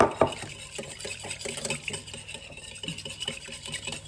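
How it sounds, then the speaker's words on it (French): Batter with milk being stirred for a savory chicken magnum, a close, steady, repetitive sloshing and scraping in a bowl, preceded by a short knock at the start. "On va mélanger. On va mettre le lait."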